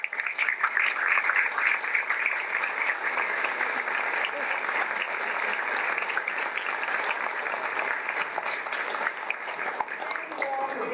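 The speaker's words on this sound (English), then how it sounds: "I want everyone to applaud" Sustained audience applause fills a room at an evening networking event, dense steady clapping from many hands running the whole stretch without letup.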